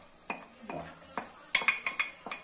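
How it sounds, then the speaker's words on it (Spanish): Chopped carrot pieces tumble into a pan of softened frying onion for sardine escabeche, with a series of sharp spoon-on-pan clacks and stirring scrapes over a faint sizzle. "primero añadimos la zanahoria cortada en trocitos"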